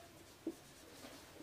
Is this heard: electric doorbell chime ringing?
no